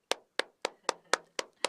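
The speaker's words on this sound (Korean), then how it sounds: "여러분 박수." Audience applause welcoming a guest in a Korean talk show studio, heard as seven evenly spaced sharp claps, close and distinct, with no voices.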